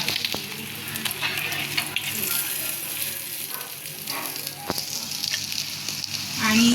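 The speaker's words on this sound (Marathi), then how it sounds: "कुरकुरीत होईपर्यंत फ्राय करायचे" Mandeli fish frying until crispy in a pan, a steady bright sizzle with occasional pops and stirring clinks, fairly close and continuous, with no one talking over it.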